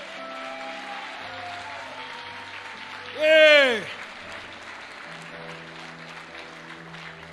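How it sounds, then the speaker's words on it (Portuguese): A church congregation claps steadily through a worship service, with a loud voiced shout bursting out over the applause midway and people talking across it. "Dá aquele aplauso aí, meu irmão, por favor"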